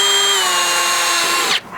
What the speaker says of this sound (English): not have any issues with drilling through metal